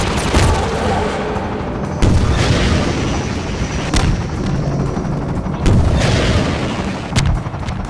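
Combine gunship attacking in the Half-Life 2 mod Minerva: Metastasis: loud, near bursts of booming gunfire and explosions repeat every second or two over a dense, rumbling battle din, with no talk.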